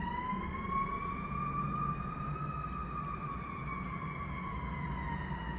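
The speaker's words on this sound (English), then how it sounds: "Let the ambulance go by." An ambulance siren wails steadily nearby, its rising and falling tone sustained throughout with a low traffic rumble underneath and no talking.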